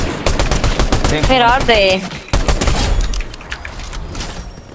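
Rapid sniper and rifle fire cracks in a Fortnite-style battle royale match, dense sharp shots clustered near and loud, with excited talk and a brief voice overlapping the bursts.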